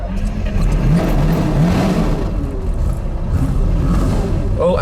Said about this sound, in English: Right, time to start the Miura.